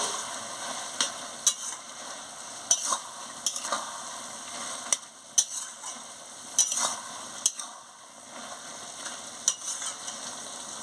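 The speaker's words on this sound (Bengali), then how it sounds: "জিরে গুঁড়ো দিয়ে একটু ভালো করে নাড়িয়ে নিচ্ছি" A spoon stirs cabbage curry seasoned with cumin powder in a pan, with a soft steady sizzle and light scraping clicks at irregular intervals, close and fairly quiet, no talking.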